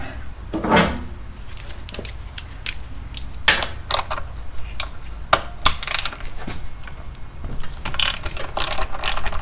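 A ratchet wrench turns a 6 mm socket on the fork of a 1984 Honda Shadow 500, giving close, loud bursts of rapid clicking in short repeated strokes with brief pauses between them.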